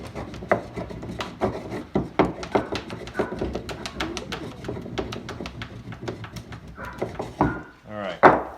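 Braided ox lashes are rubbed down to smooth them, giving repeated close rasping strokes in an uneven rhythm, with a brief louder scrape near the end.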